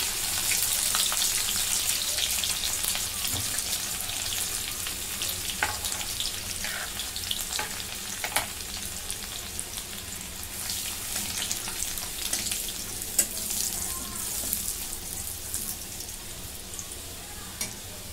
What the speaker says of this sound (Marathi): आता याच्यामध्ये ठेचून घेतलेलं लसूण आहे ते टाकून घेते